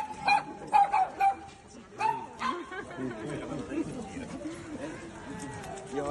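Small Maltipoo dogs yap and bark at a Maltipoo owners' gathering, a cluster of sharp close barks early on, then fainter yips under lively chatter and talk from people nearby.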